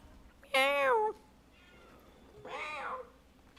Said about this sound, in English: This cat's too funny.